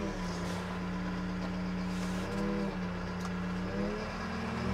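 Engine of a Claas Scorpion telehandler while driving, a steady mid-pitched diesel drone with slight shifts in revs, close and continuous, no talking.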